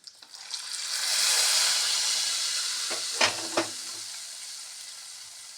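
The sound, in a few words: tempering (oggarane) sizzling in hot oil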